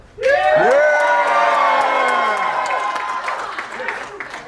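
A school crowd cheers for the seniors at a senior show, a sudden loud burst of shouting and whooping that starts abruptly, then slowly fades over several seconds with scattered claps.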